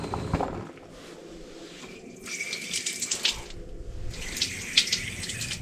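Water runs from a sink tap at a freezing winter campsite on Agulhas Negras in Rio de Janeiro, coming in two close, steady gushes with a pause between and no voices.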